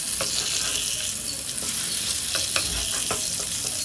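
Fish pieces coated in masala fry in a pan, making a loud, continuous sizzle with scattered scraping knocks as the pieces are turned over.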